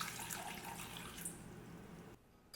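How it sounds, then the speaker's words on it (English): Warm water runs steadily from a kitchen tap for a yeast bath, a continuous hiss and splash that cuts off near the end. "Now to make the yeast bath, we need some warm water."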